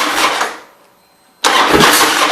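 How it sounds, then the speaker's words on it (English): A 2005 Harley-Davidson CVO Screamin' Eagle Fat Boy motorcycle engine cranks, falls briefly quiet, then fires and catches into a loud, rumbling idle close by. "I'm going to crank this thing up and let you listen to it"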